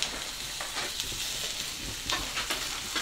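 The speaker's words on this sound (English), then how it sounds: "it's feeling a little bit dry, so we're going to add some more oil in" Oil is added to a pan where food is frying, producing a steady close sizzle broken by light scraping stirs.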